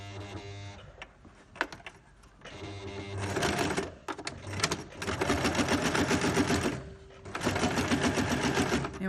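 A sewing machine stitches forward and then backward to lock a seam on a fabric gift bag, with bursts of rapid mechanical rattling separated by short pauses and small clicks, close and clear.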